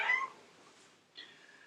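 A pet cat indoors lets out two soft meows about a second apart, the second slightly longer and drawn out, faint in a quiet room with no talking.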